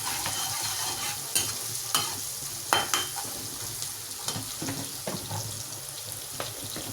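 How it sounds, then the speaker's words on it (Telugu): A pinch of turmeric stirred into softened cooked tomatoes in a pan, a steady close scraping and stirring over a soft constant sizzle, with a few louder spoon knocks against the pan. "చిటికెడు పసుపు వేసుకుని కలుపుకోవాలి."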